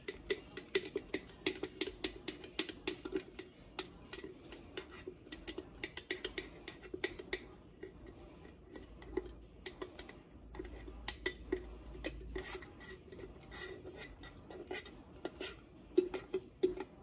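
Sourdough starter tipped from its jar into a bowl on a kitchen scale, a series of light clinks, taps and scraping knocks of container against bowl, fairly quiet and close, spread irregularly across the stretch with no talk.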